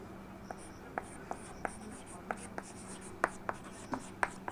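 Chalk or marker writing on a board during an English grammar lesson, with a steady series of distinct taps and short strokes spaced about every half second, close and clear over a quiet room hum.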